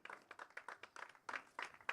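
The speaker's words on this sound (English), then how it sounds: "big round of applause to our top 3 finishers" Crowd applause for the top three finishers on the podium at a Winter Series race round in Aragón: dense, steady clapping from many hands, fairly close and lively throughout, with no talk over it.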